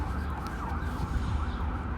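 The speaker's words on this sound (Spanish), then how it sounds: "está pasando aquí una ambulancia" An ambulance siren wails steadily in the background with a rising and falling tone, under a low rumble of street or room noise, with no speech.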